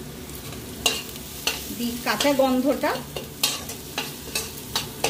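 Ginger and garlic paste fries in a pan with onion paste and whole spices, a soft sizzle under sharp clinks and scrapes of a spatula against the pan, ending in a short swirl of stirring.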